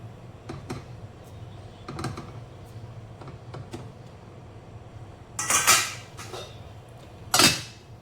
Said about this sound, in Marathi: इडलीच्या भांड्यामध्ये आपण वाटी ठेवूया.